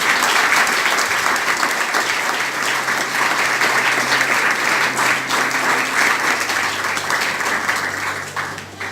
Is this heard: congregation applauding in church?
yes